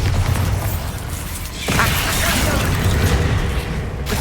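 A Bombarda spell blast erupts in the Hogwarts Legacy video game, a sudden broadband boom about midway that swells into a sustained rumbling roar, layered over game music and combat noise.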